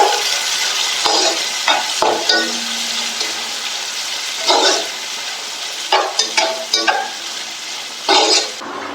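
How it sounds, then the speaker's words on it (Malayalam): Sliced onions frying in oil in a home kitchen for chicken biryani, a steady hissing sizzle broken by repeated louder scraping stirs at irregular intervals, close and clear with no talking. "നമ്മൾ ഉള്ളിയാണ് ഇട്ട് കൊടുക്കുന്നത്."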